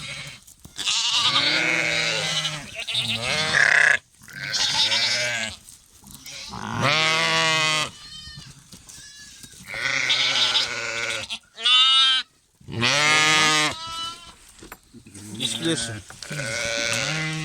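Goats and sheep bleat in a string of loud, close, wavering calls with brief pauses between them, overlapping at times while animals crowd together during feeding.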